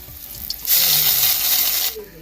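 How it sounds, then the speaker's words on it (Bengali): Urad dal paste for radhaballavi goes into hot white oil, setting off a short, bright hiss of sizzling that swells suddenly and holds for over a second before cutting off. "তেল গরম হয়ে গেছে এখানে আমি দিয়ে দেবো বিউলি ডালের বাটা"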